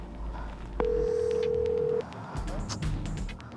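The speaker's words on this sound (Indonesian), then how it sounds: "Lu telepon si Jaka deh" A telephone dialing tone plays as a call is placed: a single steady electronic beep holds for about a second, then fainter tones follow over background noise.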